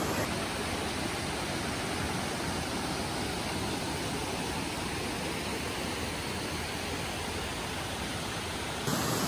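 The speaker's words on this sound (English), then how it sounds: "That is the waterfall that I just walked down from." A waterfall pours out a steady, broadband rush that fills the whole scene evenly and without pause, with no voices.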